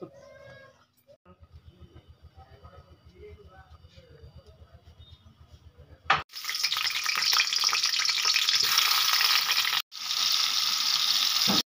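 Young jackfruit, potato, bean seeds, ginger, garlic and onion frying in a pan, a loud, steady broadband sizzle that starts abruptly after quieter kitchen sounds with a low rhythmic thumping, briefly cut off once, then resuming.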